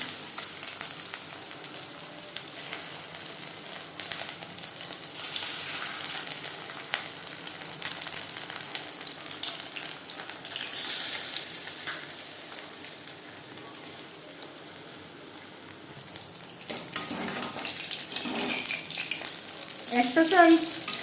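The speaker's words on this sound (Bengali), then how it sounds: "4-5 চামচ রিফাইন্ড অয়েল গরম করে নেওয়ার পর দিয়ে দেবো মাছ।" Fish sizzling as it fries in a few spoonfuls of hot refined oil, a steady crackle with occasional stirring, fairly quiet and close, rising a bit toward the end with no talking.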